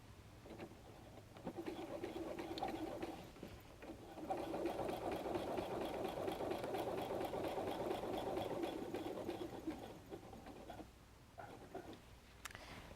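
A sewing machine stitches a messenger bag, its rapid needle chatter rising to a steady fast run for several seconds, then slowing to sparse stitches and stopping, close and fairly quiet.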